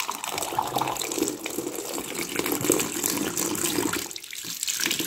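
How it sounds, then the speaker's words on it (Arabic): Water gushes from a homemade, maintainable water tap under strong pressure, a loud, steady rushing stream that runs continuously and close by throughout. "نفتح بقى المية"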